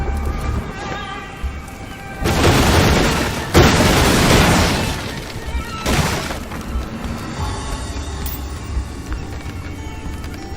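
Destructible objects shattering and exploding in the dark fantasy game Graven, chain-reacting with fire: a quiet lead-in, then loud crashing bursts and splintering debris in quick succession, tapering into crackling rubble.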